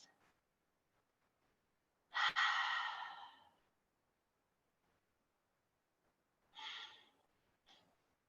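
Slow breaths during a yoga lizard pose: a long, audible exhale, then a second sighing breath and a short puff, each separated by quiet pauses.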